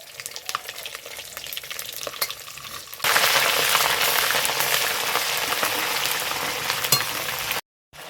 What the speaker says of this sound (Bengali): এখানে ফোড়নে আমি 4টা সাদা এলাচ নিয়েছি আর একটু দারচিনি দিয়ে দেব, আদা বাটা এবং রসুন বাটাটা দিয়ে দেব।